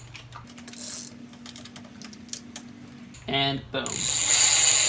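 A ratchet wrench tightens a bicycle crank bolt during a pre-race bike check, giving a short burst of rapid, evenly spaced clicks near the middle, with a brief spoken exclamation and light handling noise around it.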